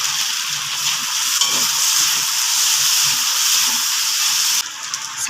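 Pre-fried vegetables sizzle in a pan as a steady, close, broadband hiss of frying that holds even and continuous, dipping slightly near the end.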